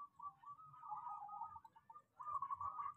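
Zebra dove (perkutut) cooing in soft, rolling phrases, two close, faint bouts of mellow trilled calls separated by a short pause.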